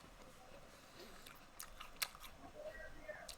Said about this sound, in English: Can you guys hear me chewing?